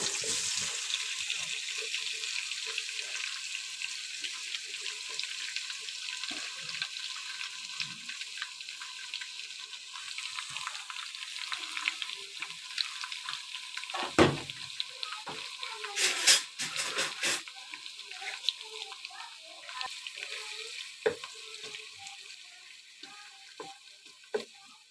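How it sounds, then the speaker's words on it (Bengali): Onions added to hot oil in a pan, giving a continuous bright sizzle that stays fairly soft throughout, with occasional stirring clatter and scraping bursts in the middle and later. "এখন আমি পেঁয়াজটাকে দিয়ে দেব।"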